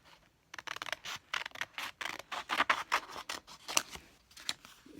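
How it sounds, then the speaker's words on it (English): Scissors snip through heart-shaped stickers for a framed wall art craft, a rapid run of close, crisp cuts and scrapes in an uneven rhythm with no talking. "Let me cut out the hearts."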